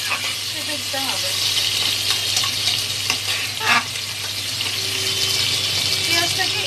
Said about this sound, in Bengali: পেঁয়াজটাকে একটু জাস্ট কালার চেঞ্জ হওয়া পর্যন্ত ভেজে নেব